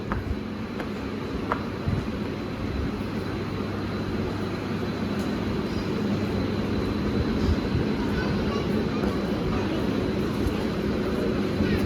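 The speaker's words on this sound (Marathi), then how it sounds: "बघा ट्रेन लागलेलीच आहे" A local train standing at Uran station, heard as a steady low rumble and hum of rail machinery that holds for the whole stretch, with light background activity over it.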